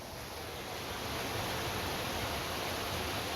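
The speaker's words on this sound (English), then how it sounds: "it makes this most beautiful sound when the water's flowing at night" Steady broadband rush of river water flowing below a chalet in the snowfields of the Austrian Alps, a continuous even roar with no breaks, moderately loud and alone.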